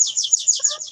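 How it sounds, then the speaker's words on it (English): A phone's alert tone, chirping like a bird, plays as a rapid series of bright warbling pulses at moderate loudness, with a faint second tone briefly underneath; nobody talks. "That's my phone."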